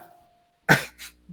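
A single sharp, loud sneeze bursts out close by after a moment of near silence, followed by a softer trailing breath.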